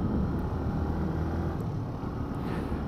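A Benelli BN 125 motorcycle rides along with a steady, continuous engine drone mixed with heavy wind rush on the microphone, with no talking.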